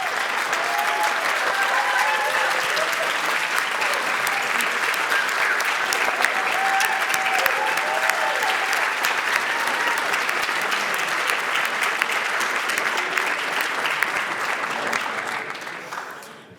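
Audience at a national newspaper awards ceremony gives the standing finalists a sustained round of applause, dense even clapping that holds steady for about fifteen seconds before tapering off at the end.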